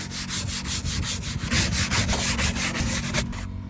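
Soft bristle brush scrubbing a car during a full professional auto detail, quick rhythmic back-and-forth strokes, close and fairly loud, ending abruptly near the finish with no talk.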